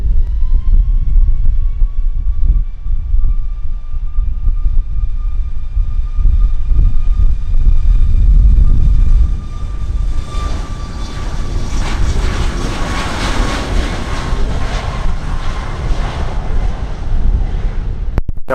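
A fixed-wing airliner takes off from runway 07 at Montego Bay, Jamaica: a loud, building engine roar with a rising whine that swells as it rolls past, then fades under wind noise.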